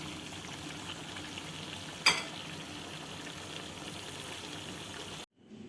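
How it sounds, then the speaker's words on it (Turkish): Chicken and vegetables simmer in a pan on the stove, giving a steady, close frying sizzle with one brief louder clatter partway through, then the sound cuts off abruptly near the end. "1-2 dakika daha kaynasın"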